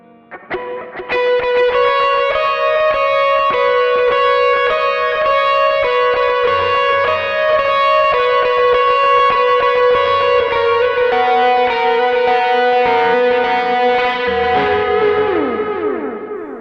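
An electric guitar plays a sustained lead line through a boost, EQ and delay, with echoing delay trailing behind the notes, loud and continuous, ending in a sliding descent.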